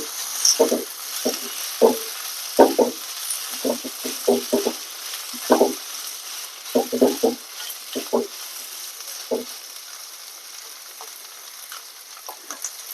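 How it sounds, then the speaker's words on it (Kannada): Boiled, diced potatoes sautéing in a pan for a potato curry, a soft continuous sizzle broken by irregular scraping stirs of a spatula, close and moderately quiet, with no talk. "ಈಗ ಆಲೂಗಡ್ಡೆನ ಬೇಯಿಸಿ ನಾನು ಸಣ್ಣ ಸಣ್ಣದಾಗಿ ಕಟ್ ಮಾಡಿ ಇಟ್ಕೊಂಡಿದ್ದೀನಿ. ಇದನ್ನ ಸ್ವಲ್ಪ ಬಾಡಿಸ್ಬೇಕಿದ್ರಲ್ಲಿ ಅಷ್ಟೇ."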